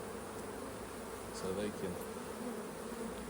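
Honeybees buzz steadily around a hive box after being shaken off frames, a soft continuous drone with a few louder individual bees passing close, and brief faint talk in the background.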